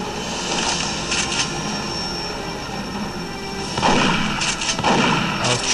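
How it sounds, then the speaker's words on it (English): Gunfire and blasts from the video game Duke Nukem Forever, in a construction-site level, come as dense, loud, continuous shooting with heavier bursts near the end, and no talking. "I was trying to shoot the canister, but whatever."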